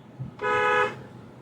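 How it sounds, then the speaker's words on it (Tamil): A single short car horn toot, clear and moderately loud, sounding for about half a second against quiet background. "நீங்களும் ஹார்ன் அடிச்சிருங்க"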